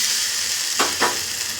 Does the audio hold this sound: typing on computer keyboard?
no